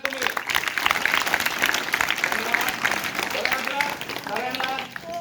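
A group of schoolchildren at a quiz event claps together in a steady burst of applause, with voices and chatter mixed in and an adult voice near the end.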